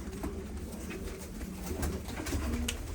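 Karakuyruk pigeons cooing in a loft, several soft repeated coos overlapping at close range against a busy background of rustling and faint bird noise.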